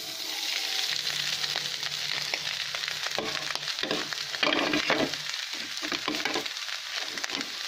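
Silkworm pupae fry in a hot pan, a dense steady sizzle with scraping stirring strokes and crackles growing busier midway, close and loud with no voices.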